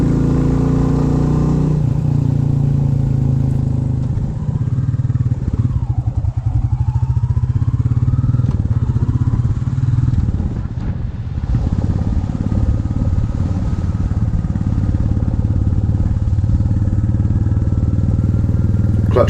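Royal Enfield 350 Classic Reborn motorcycle engine while riding at a steady cruise, a loud continuous low thumping drone with wind rush, holding even throughout with slight shifts in pitch.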